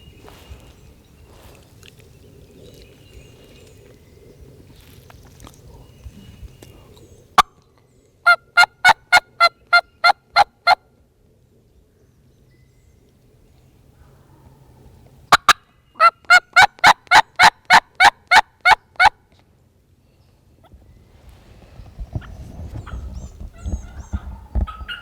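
Wild turkeys gobble in Kentucky hardwood forest, two loud bursts of rapid, rhythmic gobbling calls close by, separated by quieter woodland ambience with faint rustling.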